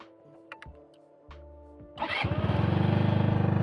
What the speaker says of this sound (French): Engine starter, il passe au vert. On met le contact.